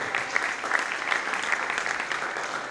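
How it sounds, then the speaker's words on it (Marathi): Audience at a literary convention clapping together, a steady dense burst of applause filling the hall at an even level for a few seconds. "त्यांच्यासाठी आपण एकदा जोरदार टाळ्या वाजवूया."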